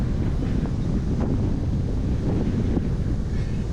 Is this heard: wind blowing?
yes